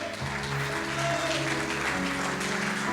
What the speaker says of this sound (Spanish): Vamos, den un aplauso.